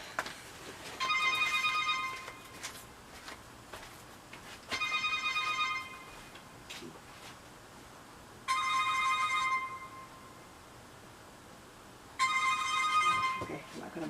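A mobile phone rings in four repeated bursts of bright tonal chimes, each about a second long, separated by quieter gaps with faint room noise.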